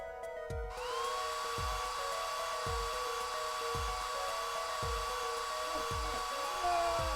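A steady electric whine from a hair dryer drying a print in the Apollo Justice video game, rising as it starts and holding a constant hum over the game's rhythmic background music.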